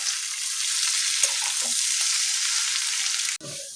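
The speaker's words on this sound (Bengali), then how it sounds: "এদিকে তো এখন আলু ভাজা চলছে কালকের জন্য।" Sliced potatoes fry in a pan with a loud, continuous hiss of oil, a few faint clinks partway through, then the sizzle briefly cuts out and resumes more quietly near the end.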